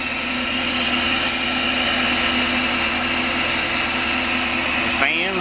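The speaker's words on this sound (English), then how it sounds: "That fan's blowing." A shop fan blows steadily in a workshop, a constant whirring hum with a tonal drone that runs evenly throughout, fairly loud and close, with no talk over it.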